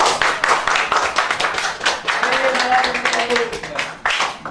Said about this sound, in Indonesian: Oke, beri tepuk tangan dulu untuk Mas Arif.